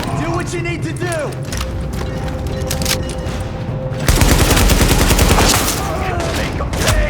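Gunfire in The Division video game, rapid bursts of automatic weapon fire with mechanical clicks and creaks, loud and continuous, swelling into a heavier volley partway through, with voices over it.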